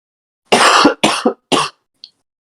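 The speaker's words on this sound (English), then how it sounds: "how dare you cough?" Three quick, harsh coughs in a row from a single person close by, followed by a tiny throat sound.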